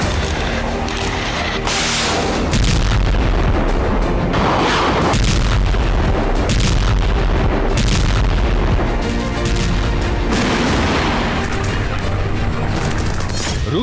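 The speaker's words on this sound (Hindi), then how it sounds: "रूस ने यूक्रेन पर पहली बार आईसीबीएम से हमला किया।" Explosions from a Russian ICBM missile attack on Ukraine, heard as a loud continuous roar with repeated heavy booms and crashing blasts throughout, close and dense, with no talk.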